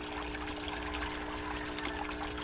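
Water trickling weakly from a clogged pipe into a garden pond, a constant thin splashing stream with a faint steady hum beneath it, close and unbroken throughout.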